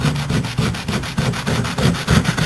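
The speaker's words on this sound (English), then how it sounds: "I'm also going to take a sheet of sandpaper," Sandpaper sheet rubbed by hand over a lumpy basement board, smoothing raised spots; steady rhythmic back-and-forth scratching strokes, close and fairly loud, with no talking.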